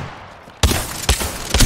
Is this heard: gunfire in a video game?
yes